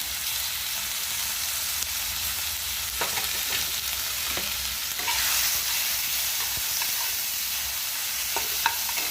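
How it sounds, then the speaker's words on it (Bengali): Tomatoes, green chillies and ginger paste fry in oil in a wok, giving a steady close sizzle throughout with occasional stirring scrapes and clinks. "কড়ায় তেল দিয়ে দিয়েছি দেব টমেটো দেব কাঁচা লঙ্কা আর আদা বাটা"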